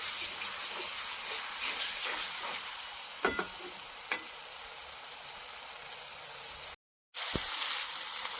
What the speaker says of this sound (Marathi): आलं लसूण पेस्ट आपण परतून घेणार आहोत